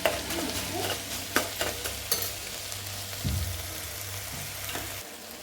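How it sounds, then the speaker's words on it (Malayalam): Green chili, crushed ginger and garlic frying in a pan, a steady sizzle with occasional scraping stirs from a spoon, close and continuous, with no voices. "അടുത്ത നമ്മള് വെളുത്തുള്ളി ചതച്ച് വെച്ചതും കൂടി ചേർത്ത് കൊടുക്കാം കേട്ടോ."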